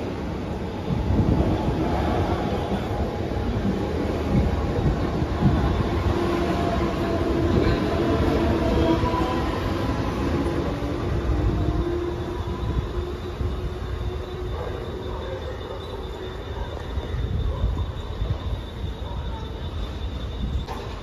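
A 12-car slow Harbour Line local on platform two at Reay Road station in Mumbai, its steady close rumble and rolling carriage noise filling the whole stretch with a faint high whine, no voices.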